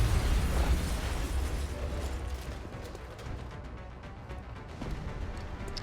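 A grenade blast in XCOM: Long War on a rooftop, a loud rumbling explosion that rolls on with crackling debris and mechanical rattles, fading slightly before a second swell near the end.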